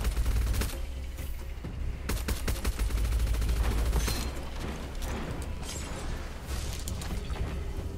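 Rapid automatic chain gun fire from the shooter game Gunfire Reborn, a dense, sustained rattle of shots with heavy low-end thump that runs almost continuously, close and loud, with no talking.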